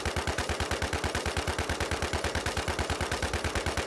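Rapid automatic gunfire aimed at a zombie in Infestation The New Z, an unbroken, evenly spaced stream of loud, close shots lasting the whole stretch.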